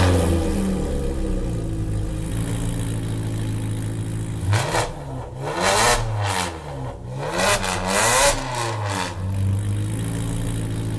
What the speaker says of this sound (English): if you'd like some V8 noise,